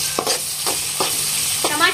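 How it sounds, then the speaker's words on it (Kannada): Onions frying in oil and being stirred in a pan: a soft sizzle under several brisk scraping strokes of the spoon, close up, with no one speaking. "ಎಣ್ಣೆಯಲ್ಲಿ ಒಂದು ಸ್ವಲ್ಪ ಕೆಂಪಗಾಗತ್ತೆ ನೋಡ್ರಿ ಉಳ್ಳಾಗಡ್ಡಿ, ಆ ತರ ಚೆನ್ನಾಗಿ ಫ್ರೈ ಮಾಡ್ಕೊಳ್ಳೋಣ್ರಿ"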